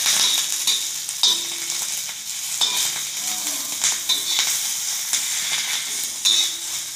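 Chillies roasting in a pan give a steady fine sizzle with light crackles and occasional scraping stirs, close and moderately loud, no voices.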